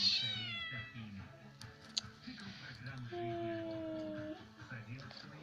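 A cat with a broken paw gives a faint, drawn-out meow midway through, heard under nearby speech and low household noise.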